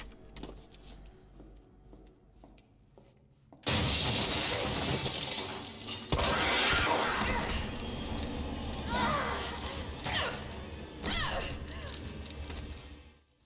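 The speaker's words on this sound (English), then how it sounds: "we're immediately set upon by a licker. Crashing through the glass" Glass shatters loudly as a licker creature bursts through a window in the Resident Evil 2 (2019) orphanage, a sudden crash after a quiet stretch, followed by several seconds of scattering shards, debris and further impacts.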